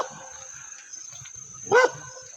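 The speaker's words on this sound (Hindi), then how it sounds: "ये गांव का कुत्ता।" A village dog in the hills of Almora, Uttarakhand, gives a single short bark at moderate distance over a faint outdoor background.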